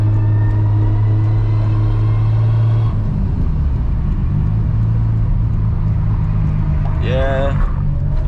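A 1000+ horsepower Toyota MKIV Supra cruises through windy downtown streets. The engine drones loud and steady from inside the car, shifting tone partway through, and a voice is heard briefly near the end.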